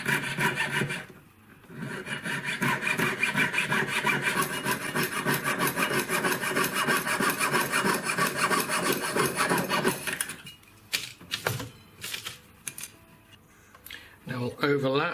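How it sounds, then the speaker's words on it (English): A 925 silver band being sawn apart into five separate rings, a steady close rasping that runs without a break for about ten seconds before giving way to a few short, separate scraping strokes. "So now I'm going to cut them apart to make the 5 rings."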